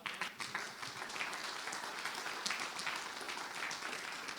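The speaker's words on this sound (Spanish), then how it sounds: "Denle un aplauso a Cristo." A church congregation breaks into sustained applause, a dense, steady wash of many hands clapping that fills the whole moment without pause.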